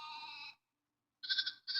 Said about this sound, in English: It was his trusted sheep, Willie.